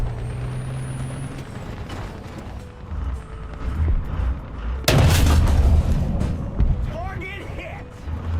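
A tank cannon in the War Thunder video game fires and strikes its target with one loud, sharp boom midway, heard over a steady rumble of the engine and game noise.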